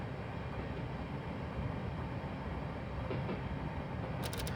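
A train rolls past in the Train Simulator game on the Sacramento Northern line, SN Class 1003, as a steady, quiet rumble with faint clicking near the end and no talking.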